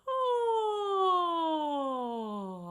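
A single smooth sung glissando in a vocal warm-up, one sustained clear tone sliding steadily downward for about two and a half seconds.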